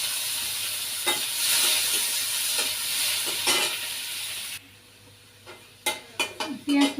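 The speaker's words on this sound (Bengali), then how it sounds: "যে ফোড়নের জন্য পেঁয়াজ কুচি দিলাম" Chopped onion fries in a pan with cumin and radhuni spices, giving a loud steady sizzle with stirring scrapes, then the hiss drops away and a few clattering knocks of a spoon on the pan follow.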